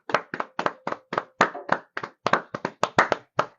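About fourteen separate, crisp hand claps in a quick, slightly uneven rhythm, close and fairly loud, as if from one or two people, with silence between the claps.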